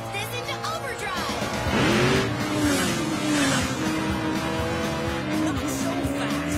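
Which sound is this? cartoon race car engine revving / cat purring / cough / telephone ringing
cartoon race car engine revving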